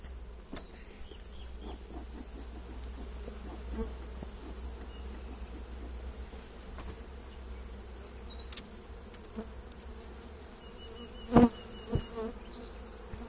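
A weak honeybee colony hums in an opened hive with three boxes, giving a constant close buzz with a few louder bees passing near and occasional soft knocks. No one speaks.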